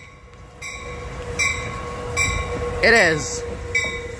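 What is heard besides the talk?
Amtrak passenger train passing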